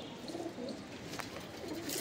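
Madrasi Fulsara pigeons coo softly and repeatedly at close range, low murmuring calls under a faint background hiss.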